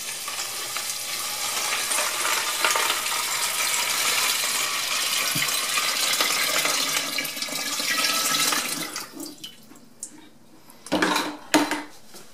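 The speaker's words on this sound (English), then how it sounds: "now I'm going to fill the drum halfway with water." Steady rushing water fills a rotary brass tumbler drum already loaded with stainless steel pins and 9mm brass casings, running for about nine seconds, then shutting off to a few metallic clanks and rattles.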